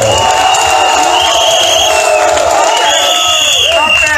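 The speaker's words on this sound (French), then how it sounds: "Il faut les applaudir très fort." A large crowd at a political rally in Côte d'Ivoire roars and cheers loudly, shouts and whoops rising from a dense, continuous wall of noise, with a voice calling out through it.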